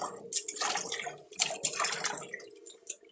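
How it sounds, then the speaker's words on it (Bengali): Fish being washed by hand in a bowl of water, irregular close splashes, sloshes and drips in bursts with brief pauses, alone. "মাছটা ধোয়া শেষ"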